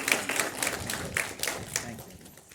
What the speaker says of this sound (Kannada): ಜೋರಾಗಿ ಮಕ್ಕಳು ಒಂದು ಚಪ್ಪಾಳೆ.